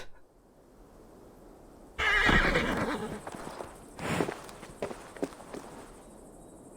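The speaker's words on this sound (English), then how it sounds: "The horse just decided to jump after me." Horse in Assassin's Creed Valhalla neighs loudly after a quiet start, followed by a second whinny and scattered hoof clops on the ground.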